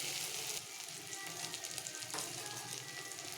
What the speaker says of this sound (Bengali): আমার মশলা পুরো কষানো কমপ্লিট। এবার আমি জল অ্যাড করি।